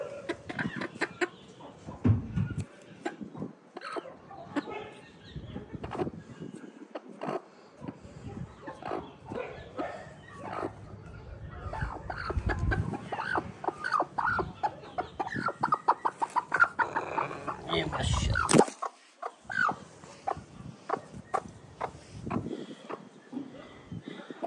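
A brooding hen sitting on her clutch of eggs gives soft, repeated clucks and low grumbles, close by, with irregular bursts amid rustling and occasional other farm noises.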